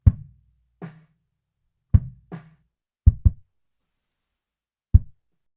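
Gated, low-pass filtered sub kick mic track taken from outside a kick drum, giving six short, deep thumps in an uneven pattern with silence between hits and no other instruments.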